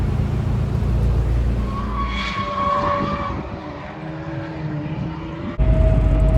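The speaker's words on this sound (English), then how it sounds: "I'm in the diesel truck, rolling down the freeway, rolling down I-15 from Vegas to LA right now" Diesel pickup truck rolling down the I-15 freeway from Vegas toward LA, a steady loud low engine and road drone heard from inside the cab, with a rising whine and a sudden louder shift near the end.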